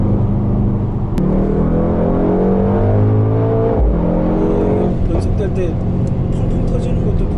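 A Mercedes-AMG GT 63 accelerates from inside the cabin, its engine note climbing steadily in pitch and holding as a loud, continuous roar, with muffled voices in the car.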